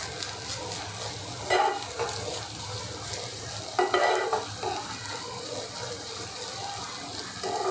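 Onion and ginger-garlic paste stir-fry in a pan for Kashmiri-style dum aloo, giving a steady low sizzle with a few brief scraping and clattering stirs.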